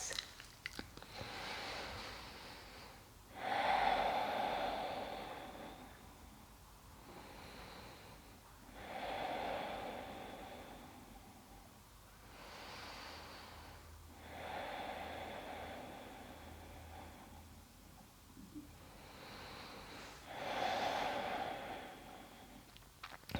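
Slow, deep yoga breaths are taken lying with legs up the wall, each long inhale and exhale rising and fading in a steady rhythm of about five cycles, close and soft, with no talking.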